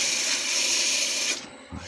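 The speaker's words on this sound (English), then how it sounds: "I can just push the sandpaper in and out doing that, and that will sand it" A continuous abrasive hiss of sandpaper against a wooden desk tidy spinning on a lathe runs close and steady, then stops abruptly near the end.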